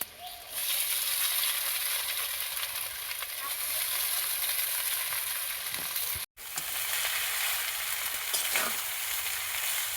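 Chow mein noodles fry in hot oil in a wok, giving a loud, steady sizzle that carries almost the whole time, cut by a brief gap, with some clinking from stirring.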